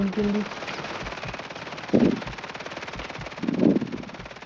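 Gunfire in the Warzone video game, two short bursts of shots about two seconds apart, moderately loud against a busy game background, with brief speech near the start.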